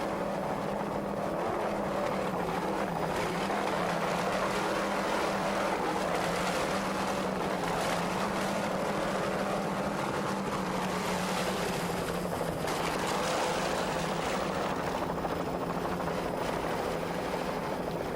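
The C1 Rolling Thunder offshore racing powerboat roars steadily and loudly through an offshore race off Fort Lauderdale, with wind and rushing water in a continuous engine drone, likely recorded from a helicopter overhead.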